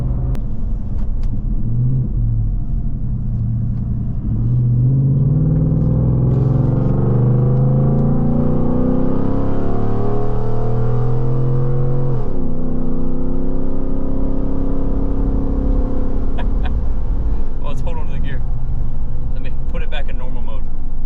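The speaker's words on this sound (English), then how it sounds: "when you kind of give it a little bit of gas, you hear the exhaust" A 2017 Ford F150 with a 5.0 V8 and Corsa Pro Series exhaust accelerates on a freeway in sport mode, its deep exhaust note climbing steadily through a gear before an upshift, heard loud from inside the cab under occasional talk.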